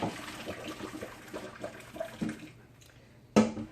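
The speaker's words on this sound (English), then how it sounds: "Put some cold water." Cold water poured over cooked yams in a pot, a faint soft splashing trickle that stops near the end, followed by a brief clatter.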